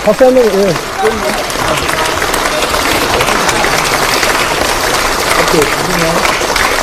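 An audience applauds at a party caucus meeting, a steady wash of clapping from a crowd that runs the whole time, with a voice speaking over it at the start and again near the end.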